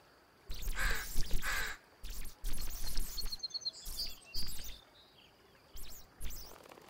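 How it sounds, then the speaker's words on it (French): A crow caws repeatedly in the forest of the video game The Forest, several harsh calls spread over a few seconds with short gaps, fairly close and clear against a quiet background, with a faint higher chirp in between. "Ah, c'est un corbeau que je vois."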